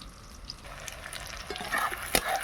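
Chicken with ginger, cumin, chilies, garlic, onion paste and tomato sizzles over a wood fire, a soft crackling fry with scattered pops and spatula scrapes that grows livelier toward the end.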